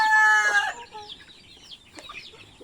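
Chickens on a farm with chicks: a loud rooster-like crow opens, then softer scattered clucks and chirps follow nearby, with no talking.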